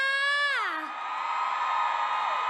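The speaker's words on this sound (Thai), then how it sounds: "ขอเสียงกรี๊ดดังอีกครั้งหนึ่งนะคะ" A high, sliding voice gives way to a loud crowd screaming and cheering together, sustained and energetic throughout.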